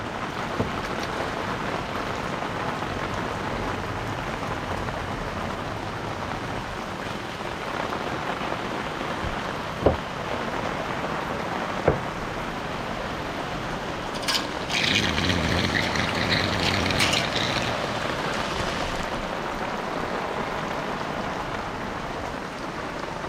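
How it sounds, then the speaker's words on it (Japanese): Heavy rain pours steadily on an old traditional house as a typhoon approaches, a dense continuous wash with a couple of sharp knocks and a brief swell of louder splashing partway through. "でも雨漏りしてたんこっちやもんな。"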